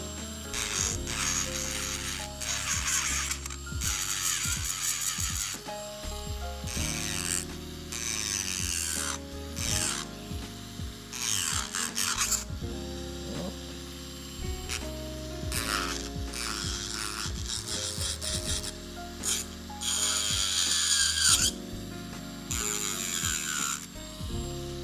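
A power drill spins a drill bit at low RPM, a steady mechanical whir broken into stop-start bursts with ratcheting, grinding clicks as the bit works, close and alone.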